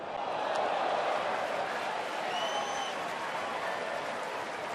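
Baseball stadium crowd at a New York at Detroit game in 2011 cheering and applauding after a good catch, a steady broad roar of applause heard from a distance.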